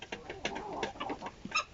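A rooster gives a short series of soft, close clucks, a few quick bursts ending in a slightly sharper note.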